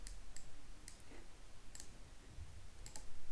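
Sharp little computer mouse clicks on an OK button in Blue Prism software, four or five quiet ticks spaced out over a low background hum.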